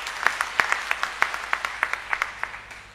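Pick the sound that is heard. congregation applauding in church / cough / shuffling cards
congregation applauding in church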